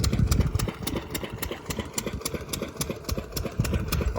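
A generator engine runs steadily on a farm during paddy-planting season, its close, loud mechanical chugging pulsing in a fast even rhythm throughout with no voices.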